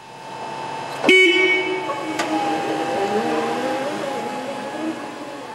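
A forklift truck's horn blares in a busy industrial setting, one loud sharp blast followed by a fainter second toot, over a steady droning tone and background hum.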